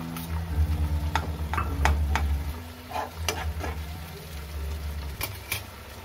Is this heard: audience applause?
no